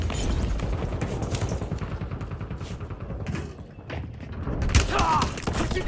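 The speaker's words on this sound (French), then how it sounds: "Des tirs" Gunfire and explosions in the video game Warzone, a busy mix of dull booms, thuds and mechanical clatter, with a loud burst of shots near the end.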